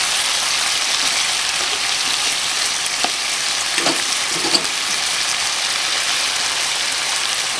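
Garbanzo beans dropped into simmering pork pochero with fish sauce, giving a steady close sizzle and bubbling with a few soft clunks and stirs partway through.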